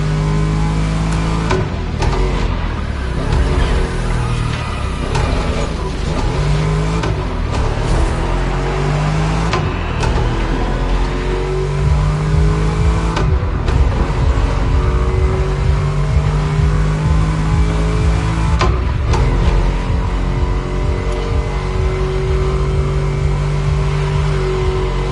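Souped-up cars in a Japanese racing video game rev and accelerate, loud engine tones climbing and dropping through gear shifts over a steady roar, continuous and close with no talk.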